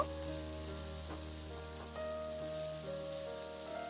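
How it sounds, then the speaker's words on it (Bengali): Potatoes and yardlong beans fry with spices in a pan, giving a soft, steady sizzle with a faint hiss and a few light stirring scrapes, fairly quiet and continuous. "মশলাগুলোকে দিয়ে আলুর সঙ্গে খুব ভালো করে একটু নাড়াচাড়া করে আমি আবার কয়েক মিনিট সময় একটু ভেজে নেব"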